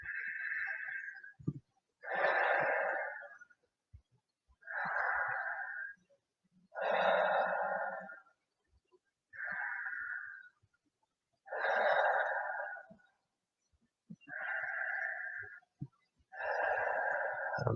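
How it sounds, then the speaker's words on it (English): Eight slow, deep breaths, each a long airy inhale or exhale of one to two seconds with short pauses between, close and fairly loud with no other sound, taken while lying on a mat during restorative yoga. "let's start taking some nice deep breaths"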